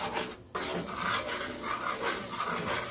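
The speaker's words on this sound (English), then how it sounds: "Doesn't say whether to stir or not, but I'm stirring." Chocolate sheet cake mixture stirred in a pot, a close, steady scraping and rasping of a spoon against the metal that runs continuously after a brief pause, with no talking.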